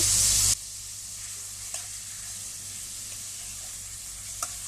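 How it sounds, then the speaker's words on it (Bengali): A fish head drops into hot spiced oil with a brief loud splash, then a steady low sizzle of frying continues with a couple of faint stirring clinks, no voices. "এখন আমি মাছের মাথা দিয়ে দেব"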